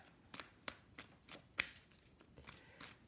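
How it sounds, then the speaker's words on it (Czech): Crisp papery tarot card snaps and flicks as cards are shuffled and laid out, a handful of separate bursts spread irregularly, close and fairly quiet, with no talking. "Takže já si k tomu doložím zase nějaké karty"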